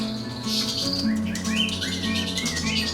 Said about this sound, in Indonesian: jenis burung ini dikenal memiliki kemampuan berkicau yang baik dengan suara merdu, bermelodi, dan sangat bervariasi